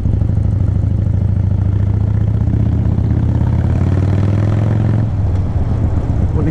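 A Harley Davidson 1200 Sportster motorcycle with a tall extended fork runs close by, its engine giving a steady loud low rumble throughout that shifts and eases slightly near the end, with no talk over it.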